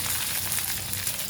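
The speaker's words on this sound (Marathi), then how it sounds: "तर आपण वांगे हे चांगले भाजून घ्यायचे आहेत, त्याला काळा रंग येईपर्यंत" Brinjals roasting in a pan with garlic, a brief, quiet, even sizzle and crackle with no voices.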